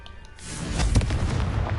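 A Confringo blast curse explodes in the video game Hogwarts Legacy, a loud booming burst that swells and rumbles on for over a second, with no talk over it.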